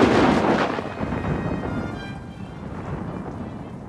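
Staged rain and thunder effects from a physical effects department on a Disneyland Paris studio tram tour: a loud, steady broadband rush of pouring rain with a rumbling thunder roll that peaks early and slowly eases, no talking.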